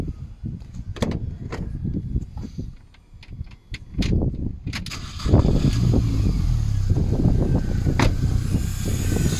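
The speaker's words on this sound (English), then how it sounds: "So, let's start it again." A cheap old Mini's engine turns over and starts again, its low uneven rumble rising and then settling into a steady, louder idle close by, with clicks and knocks mixed in.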